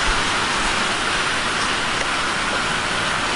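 Heavy rain pours down in Yeysk in southern Russia after a full day of downpour, a dense, unbroken hiss of water that is loud and close with no pauses.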